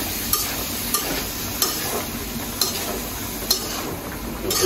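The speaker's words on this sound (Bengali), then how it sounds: "সবজি দেওয়া শেষ, এখন নাড়াচাড়া করে" Potatoes and pointed gourd being stirred in a frying pan, with a soft sizzle beneath and a clear spoon scrape or tap about once a second.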